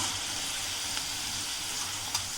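Potato French fries frying in hot oil, a dense, even bubbling sizzle heard close up with a few faint crackles and no talking.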